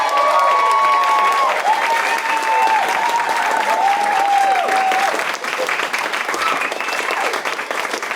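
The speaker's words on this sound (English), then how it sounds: "A big round of applause for Kev." Audience applauding for the compère at a new musical theatre show, a sustained close round of clapping with some cheering and a few whistles over the first five seconds.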